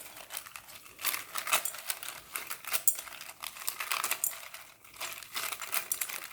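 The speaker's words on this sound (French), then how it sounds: "Je vais juste bien brasser." Tarot cards being shuffled by hand, a dense run of papery crinkles and soft card-edge clicks that rise and fall in quick bursts, close to the microphone and steady without pause.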